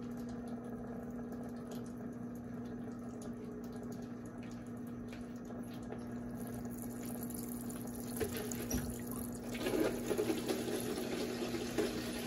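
A Brastemp Eggo 1 kg mini washing machine runs its aqua spray cycle on weak household water pressure, giving a steady mechanical hum under a soft, continuous trickle of water, with sloshing that grows a little louder near the end.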